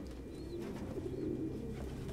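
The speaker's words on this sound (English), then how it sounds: "No human could live with all these fucking pigeons." Pigeons coo steadily in a Detroit: Become Human game scene, a low continuous burbling with a few soft chirps over a dense, constant background.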